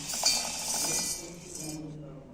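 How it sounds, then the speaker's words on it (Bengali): Fried peanuts and moong dal go into a mixer jar, a soft, quick clinking and pattering of small hard pieces against the jar, faint and close, under someone speaking. "বাদাম আর মুগ ডালটা যে ভেজে রেখেছি মিক্সারের জারে দিয়ে নিচ্ছি"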